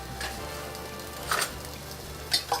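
A low, steady sizzle of food frying in a pan close by, with a few clinks of utensils stirring.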